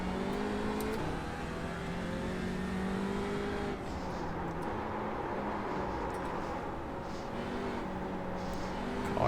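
An Audi RS3 LMS race car slides at Zandvoort in iRacing, its engine droning with shifting tonal whine and tire scrub, a steady close-up mechanical hum with a pitch drop midway.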